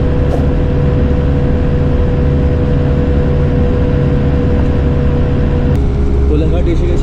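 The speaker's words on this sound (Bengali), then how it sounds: "বাসটা বেশ ভালো জোরেই টানছে।" Bus engine pulling hard on a highway, a loud constant low drone with steady road rumble filling the cabin, shifting slightly near the end.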